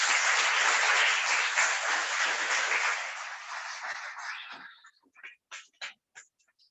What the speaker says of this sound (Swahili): Hebu tupigie makofi Edna.